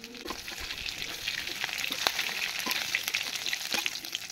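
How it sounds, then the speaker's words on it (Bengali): Chicken pieces fry in oil in a pan for chilli chicken, a close crackling sizzle with sharp pops and occasional stirring, steady and unaccompanied by voices. "ব্যাস, ভাজা হোক।"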